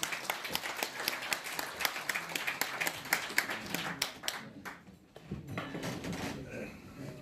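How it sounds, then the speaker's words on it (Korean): An audience at a Korean public lecture event applauds to welcome a former unification minister to the podium, steady dense clapping for about four seconds, then thinning and fading into room noise. "큰 박수로 환영해 주십시오."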